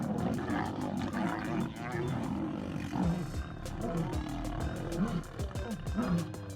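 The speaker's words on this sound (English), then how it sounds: "When a male lion arrived, he let out a deep roar that instantly calmed his raging harem." A male lion gives deep, rumbling roars and grunts in repeated low bursts, loud and close, with a narrating voice speaking over them and a rhythmic ticking hiss throughout.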